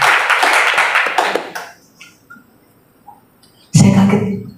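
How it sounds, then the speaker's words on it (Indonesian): A congregation at a Saturday morning prayer service in a Jakarta apartment claps together. The dense, loud clapping fades out within two seconds, then after a quiet pause a fresh burst of clapping starts near the end. "Tepuk tangan dong buat Tuhan Yesus ya."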